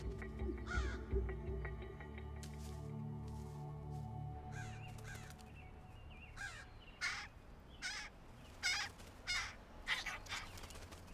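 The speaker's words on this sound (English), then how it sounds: "Crows have different warning calls, one for cats and one for hawks and another for humans" Repeated harsh caws from crows, calling in short bursts and irregular clusters over a steady low background hum, moderately near.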